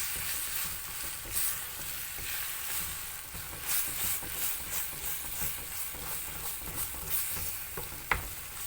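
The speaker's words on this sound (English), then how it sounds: "Mix all this." Masala for an aloe vera spicy curry is stirred in a sizzling pan, a steady close frying hiss with soft scraping strokes throughout and a brief clink near the end.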